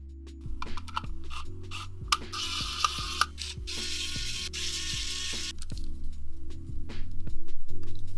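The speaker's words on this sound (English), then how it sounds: "The matrix has matching JST connectors, so it clicks right in." Small JST connector being clicked into an LED matrix, amid a run of rapid plastic ratcheting clicks and mechanical ticks, close and fairly loud, with a brief scraping rustle in the middle.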